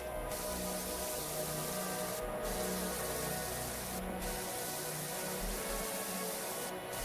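A pressure washer sprays a removals van with a steady, fairly quiet hiss, broken three times by short pauses in the spray.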